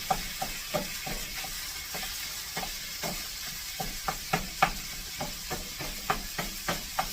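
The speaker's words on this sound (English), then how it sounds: "So I'm going to start to get that hamburger chopped up in there." Hamburger meat sizzles steadily in a hot pan while being chopped up, a constant frying hiss punctuated by regular sharp taps and scrapes of the utensil against the pan.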